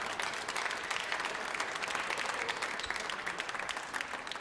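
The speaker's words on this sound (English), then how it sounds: "A round of applause for Hollie Naughton into the final." A squash audience at the 2022 Canadian Open semi-finals gives sustained, dense applause for a player reaching the final, steady throughout with no talk over it.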